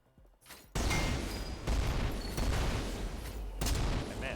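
The Thundercat gun in SYNTHETIK 2 fires in sustained loud bursts, a dense roaring volley that cuts in sharply and keeps going with brief surges.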